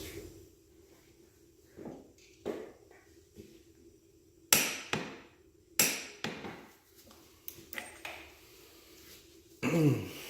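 A torque wrench on the clutch nut of a 2001 Suzuki RM 250 gives a series of sharp, separate metallic clicks and knocks at uneven intervals, close by and fairly loud, with quiet pauses between them.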